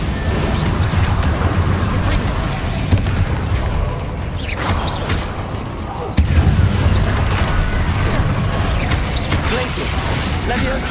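A Bombarda spell cast in the video game Hogwarts Legacy, producing booming blasts and crashes over a busy, loud game soundscape, with a sharp impact near the middle.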